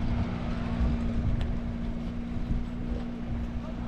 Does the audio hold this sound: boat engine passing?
yes